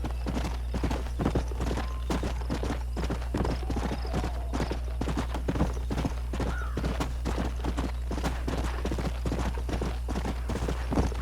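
Horse hooves clip-clop steadily in Red Dead Redemption on Xbox One, a continuous trotting rhythm of many closely spaced hoof hits, with an occasional faint whinny and a constant low hum underneath.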